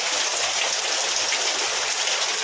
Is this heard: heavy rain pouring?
yes